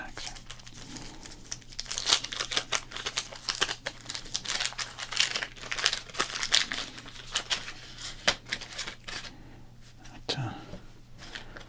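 Baseball card packs crinkle and tear up close, with dense crackling plastic bursts in an irregular rhythm across the whole stretch, and a voice talks faintly underneath.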